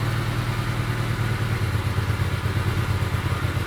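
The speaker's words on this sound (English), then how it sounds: "Seamless, fires right up." A 2012 Hyosung GV250 motorcycle engine idles steadily and close by, a loud, even low-pitched throb with light mechanical clatter and no voices.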